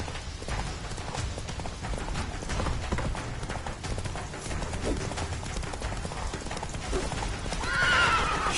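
Geralt's horse Roach galloping in The Witcher 3, a steady rapid clip-clop of hooves over a rushing game soundscape, with a loud neigh rising near the end.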